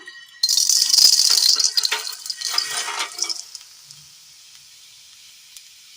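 Vermicelli sticks roasting in a pan for a Kerala breakfast dish, giving a loud, busy rattling sizzle for several seconds that gradually thins out and fades to near silence.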